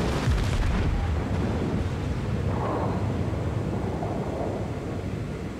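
Heavy naval gunfire from a Yamato battleship in World of Warships, a deep, sustained rumbling boom that opens loud and rolls on with wind-like roar, slowly fading without a break.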